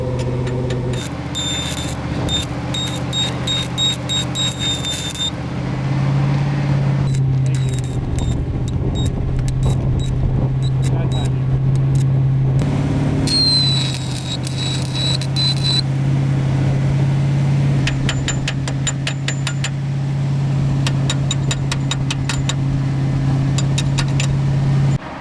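An engine-driven welder runs out on the trail while welding a Jeep track bar bracket. Its engine drones steadily and loudly throughout, with bursts of sharp arc crackle coming and going. No one speaks.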